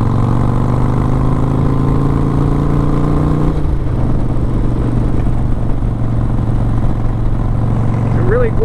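Harley-Davidson Sportster 72 motorcycle engine rumbling steadily while riding around La Quinta, California, a loud close drone that eases slightly midway, with a voice talking over it.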